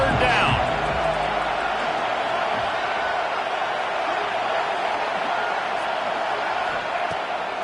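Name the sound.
big football stadium crowd noise in Happy Valley on 3rd down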